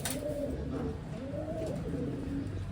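Racing pigeons coo nearby with soft, low, repeated rolling calls that overlap in a steady murmur, over a constant background hiss.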